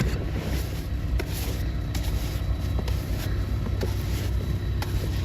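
A car rolls slowly along a snow-covered road on a cold morning, its low, steady engine rumble and tire noise continuous and close, with faint crunching ticks scattered throughout.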